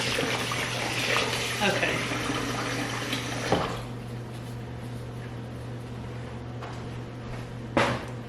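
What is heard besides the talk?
water running while rinsing and draining limes and oxtails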